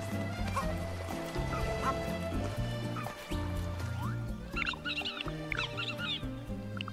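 A dog in the Super Mario Odyssey video game lets out a few quick, high yips near the end, sitting over a busy, looping game soundtrack.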